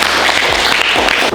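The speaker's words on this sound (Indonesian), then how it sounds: "Kita akan menutup presentasi dengan tepuk tangan untuk kita." A classroom of students claps together to close the group presentations, a dense, steady patter of hands filling the short moment at close range.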